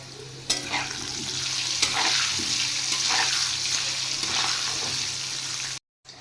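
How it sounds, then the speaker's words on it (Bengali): Potato pieces fry in hot oil in a wok with turmeric and salt, with a constant close sizzle, a few stirring scrapes and a brief dropout near the end. "এবার আমি আলু প্রথমে ভেজে নিই। কড়াই বসিয়ে দিয়েছি, তেলও গরম হয়ে গেছে। হলুদ নুন দিয়ে লাল করে ভেজে উঠিয়ে নেব।"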